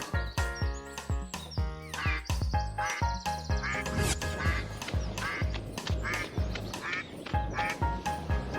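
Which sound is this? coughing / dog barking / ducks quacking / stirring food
ducks quacking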